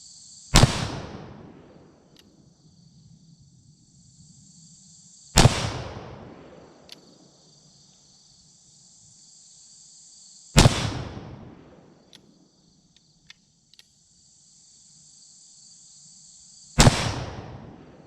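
A Rogers & Spencer percussion revolver fires four sharp, loud reports about five seconds apart outdoors. Each shot decays quickly, and crickets chirp faintly in the background.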